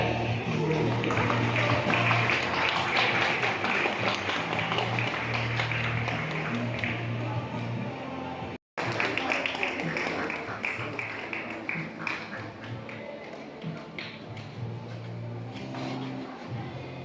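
An indoor crowd at a para swimming and para sports day in a university sports hall applauds the winners, sustained clapping echoing through the hall with a short break midway, then continuing more softly.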